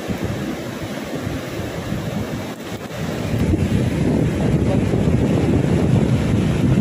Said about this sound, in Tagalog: Lalakas ang alon.